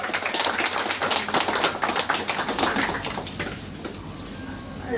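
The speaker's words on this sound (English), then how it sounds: "So please give Meera a big round of applause." An audience at a book launch at an Odyssey bookstore applauds the author: brisk, dense clapping that is loud at first, then thins out and fades over the final seconds.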